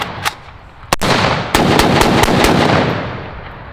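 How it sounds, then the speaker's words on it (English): Sharp, loud shots from a basic AK rifle fired outdoors, with several single reports spread across the moment, each one ringing out into a long, booming echo. "Fire. Just a basic AK."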